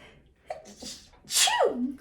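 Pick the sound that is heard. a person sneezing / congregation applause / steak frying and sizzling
a person sneezing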